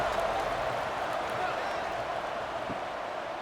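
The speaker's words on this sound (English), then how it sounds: "this crowd is buzzing after that last score" A college football stadium crowd in the College Football 26 game buzzes after a touchdown, a dense steady roar of cheering and applause heard close and loud.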